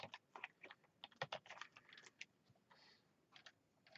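Quick, irregular keystrokes clack on a computer keyboard, close and crisp in short bursts with brief pauses, no talking.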